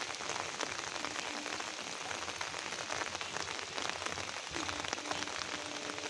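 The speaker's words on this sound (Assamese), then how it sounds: "একেৰাহে বৰষুণটো নেৰানেপেৰাকৈ দিয়ে আছে" Heavy, unbroken rain pours down in a broad steady hiss during the 2022 Assam floods in Udalguri and Tangla, loud and close with no break across the whole stretch.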